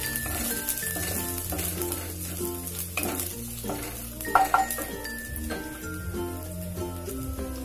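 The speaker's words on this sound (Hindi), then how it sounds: "फिर उसके बाद हम उसमें कटा हुआ प्याज डालेंगे।" Chopped onion, garlic and ginger sizzle and fry in hot oil for veg hakka noodles, a steady crackle with occasional clinks under continuous background music.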